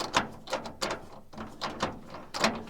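Tonneau cover clamp being unscrewed by hand: repeated close ratcheting clicks and rubbing turns in an uneven rhythm, with short pauses between twists and no talk.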